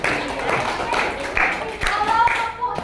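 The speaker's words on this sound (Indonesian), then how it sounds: "tepuk tangan dulu" A children's class claps together in a classroom, a loose burst of hand claps in uneven pulses lasting a few seconds, close by, with voices mixed in.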